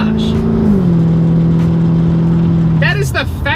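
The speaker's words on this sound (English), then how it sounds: "That is the fastest shifting automatic car I have ever driven in my life." A C4 Corvette with an automatic transmission and fuel injection drones steadily as it accelerates, its engine note dropping once at a gear shift and then holding a strong, even hum.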